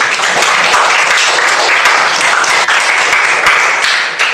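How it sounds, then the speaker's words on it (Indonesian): A group in a classroom or training session applauds together, a dense, steady patter of many hands clapping close by for several seconds before tapering slightly at the end. "tepuk tangan untuk kita semua"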